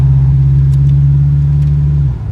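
A Chevrolet El Camino's engine pulls hard in second gear, a loud, steady low drone held for about two seconds before the note drops away as the revs fall off at the end.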